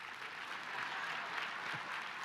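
Steady audience applause fills a graduation ceremony hall, a dense, even wash of many hands clapping at a consistent level with no voices on top.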